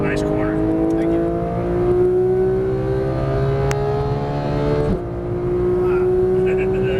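A 2015 Porsche 911 GT3 accelerating on a racetrack at Las Vegas Motor Speedway, its engine note climbing steadily in pitch before a brief gear change and renewed pull, loud and close from inside the car.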